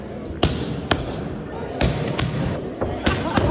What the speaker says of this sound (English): listen to the sounds of these punches hitting the glove